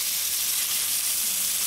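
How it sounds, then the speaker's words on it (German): Food sears in a hot frying pan in a TV kitchen, giving a steady, bright sizzle that holds evenly throughout with no talking. "will man es anbraten"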